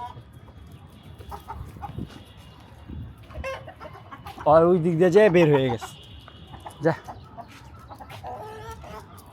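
Hens cluck near a coop where they slip through a tunnel to lay eggs, with a louder burst of cackling midway and softer clucks around it, all under ongoing conversation.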